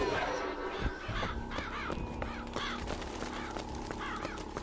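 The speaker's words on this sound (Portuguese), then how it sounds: "Tem corvo pra caralho aqui" Several crows in Bioshock Infinite give a steady run of raspy caws, one after another in quick irregular succession, fairly prominent over low game ambience.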